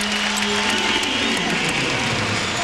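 Arena crowd at a 2002-03 NBA game between the Philadelphia 76ers and Memphis Grizzlies, applauding and hollering in a steady broad wash of cheering that fills the whole space without breaks.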